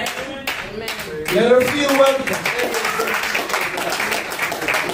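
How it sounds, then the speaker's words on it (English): A church congregation claps their hands in scattered applause that swells and then holds steady, with a voice speaking over the clapping throughout. "Clap your hands."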